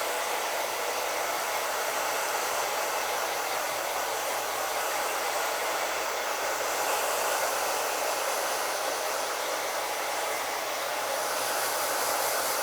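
A hair dryer on warm, high setting blows steadily while styling a hair topper, a continuous bright airy whoosh that holds close and loud throughout with no talk.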